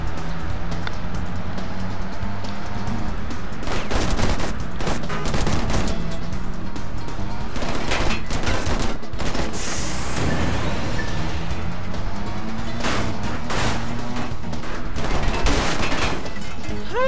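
Machine gun fire in the video game Wheelman, with repeated sharp bursts of gunshots spread across a noisy driving scene of engines and traffic, some bursts dense and loud, others spaced apart.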